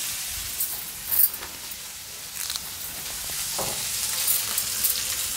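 Green chilies, cashews and dried red chilies fry lightly in a little oil, giving a steady soft sizzle with a few stirring scrapes, close and fairly quiet, with no talking.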